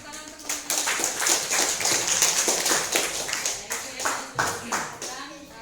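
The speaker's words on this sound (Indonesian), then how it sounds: "berikan tepuk tangan untuk" Classroom applause, a short burst of scattered hand clapping from a group of students mixed with light chatter, rising and then trailing off.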